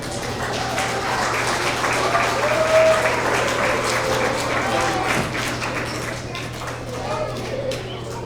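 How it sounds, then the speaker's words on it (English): At a school award assembly for first and second graders, a crowd applauds award winners with dense, steady clapping, a low constant hum underneath, and some voices mixed in throughout. "Give a round of applause for all of our first and second grade Honesty Award winners."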